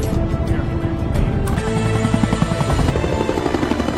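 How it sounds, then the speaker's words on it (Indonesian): A helicopter flies in a film scene, its rotor chop loud and steady across the few seconds with layered engine whine and other movie sound. "Kemudian Evelyn pun dibawa menggunakan helikopter dengan dikawal oleh Buddy."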